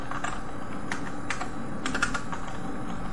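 Rapid typing on a computer keyboard while coding a WebGL VR project, irregular clusters of crisp key clicks over a steady background hiss, close and moderately loud, without speech.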